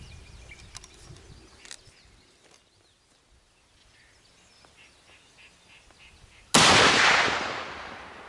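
A single loud, close rifle shot from a 7.62x54 rimmed cartridge fired at a 100-yard outdoor range, a sharp broadband crack that decays over the last couple of seconds, following a quiet stretch with faint bird calls.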